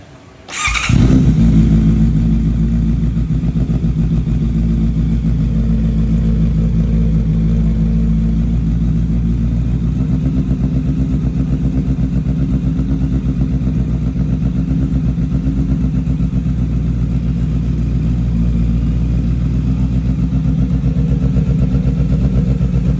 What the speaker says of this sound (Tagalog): ilang segundo na lang maririnig na natin ang Burnout Performance Exhaust